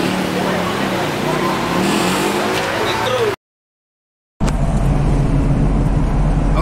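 A tour jeep pulls away on a Bromo excursion, its engine revving loud and close under a steady road rumble, cut by a short silent break before the drive continues.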